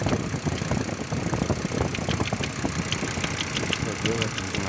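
A SsangYong Musso engine runs with a rapid, uneven knocking clatter over its idle, the tapping steady and close throughout while voice-like sounds mix in.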